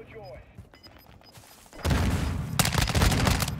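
Rapid gunfire bursts in the Call of Duty Warzone video game, loud and dense automatic fire that erupts partway through and continues in sustained volleys, with a quieter stretch of game noise before it.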